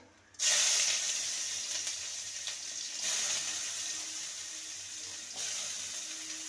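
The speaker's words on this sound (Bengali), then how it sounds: "এবার দিয়ে দেবো কুচানো পেঁয়াজ" Chopped onions are dropped into hot oil tempered with whole cumin seeds. A loud hiss bursts in at once and goes on steadily, with small surges along the way.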